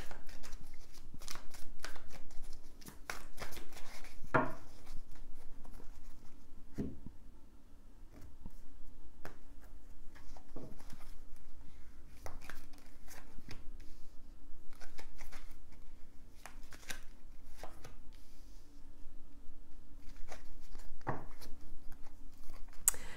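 Tarot cards being shuffled and laid out, giving a run of soft papery riffles, flicks and taps close by with quiet pauses between them and no talking.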